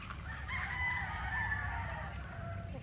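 A rooster crows among chickens in a Filipino yard, the drawn-out call rising and holding over low background rumble, fairly close and alone without talk.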